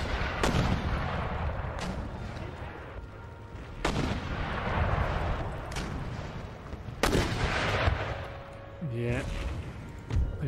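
Mortar artillery fire during a siege battle in the strategy game Empire Total War, with repeated loud booms and blasts landing every couple of seconds over a constant roar of battle noise.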